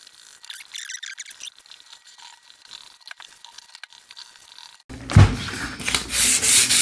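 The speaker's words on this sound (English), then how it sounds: "I'm just trying to scuff it up a little bit so that the paint will stick better" A plastic window pane in a horse barn being rehabbed is scuffed by hand to roughen it before painting, giving quiet intermittent rubbing at first, then louder, close, steady abrasive scrubbing in the final seconds.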